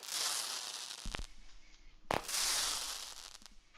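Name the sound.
firework cake going off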